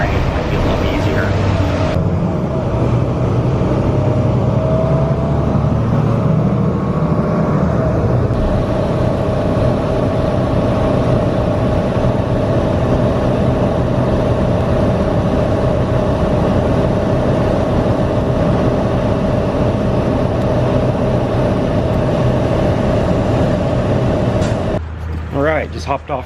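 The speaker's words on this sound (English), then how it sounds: "So we're gonna board the bus and be on our way" City bus ride in Portland heading into Northeast, with a steady low engine drone and road rumble running throughout, loud and continuous, easing off at the end.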